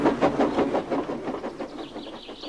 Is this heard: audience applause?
no